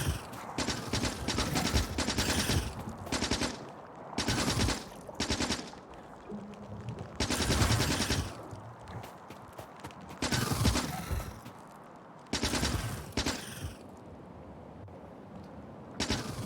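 Rapid automatic gunfire from turrets shooting bolts in the Factorio video game, coming in loud, dense bursts that start and stop repeatedly, with short lulls between volleys.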